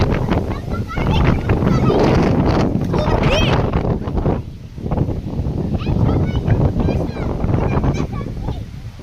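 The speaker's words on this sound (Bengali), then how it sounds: "এখন বাতাসটা একটু কমছে, এখন আবার বাড়তেছে।" Strong storm wind roars and buffets in gusts through large trees, swelling, easing slightly, then building again, loud and close, with a person talking over it.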